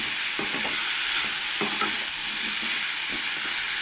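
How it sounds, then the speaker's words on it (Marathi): Onion, garlic, ginger and green chillies roasting in a pan for Goan-style chana masala, a dense continuous hiss of frying with a few soft spatula scrapes layered on top, close and even. "कांदो लसूण आले मिरसांगो हे सगळे ॲड करूंक जाय एकदाच आणि ते बरे भाजून घेवंक जाय"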